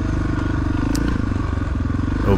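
A 1993 Honda XR600R kickstart thumper motorcycle idles high on a slick ice race course, a steady loud single-cylinder engine drone that swells slightly near the end.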